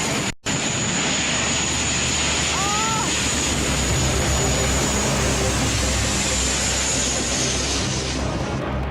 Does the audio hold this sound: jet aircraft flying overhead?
yes